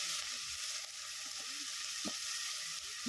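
Mustard paste sizzling in hot mustard oil in a pan for an Odia fish curry, a steady bright hiss with a few soft pops from the frying.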